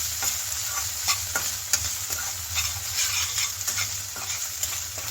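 Green peas fry in oil in a pan, giving a continuous bright sizzle with scattered spatters and the scrape of stirring, with no voices.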